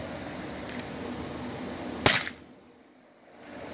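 A single sharp crack from a Crosman revolver air pistol fitted with a 3-inch barrel, close and loud against a quiet room with a faint earlier click, no speech.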